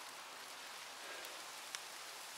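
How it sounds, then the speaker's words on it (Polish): Steady rain falls over a forest during mushroom picking for red-capped boletes, a soft continuous hiss of drops with one brief tap, no voices. "ale pada, pada, pada."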